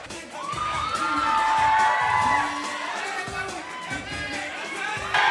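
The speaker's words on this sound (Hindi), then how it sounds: "निखिल के लिए जोरदार तालियां हो जाए." A lively crowd cheers, whoops and shouts with children's voices mixed in at a 2024 college farewell event, loud and sustained throughout, with voices talking underneath.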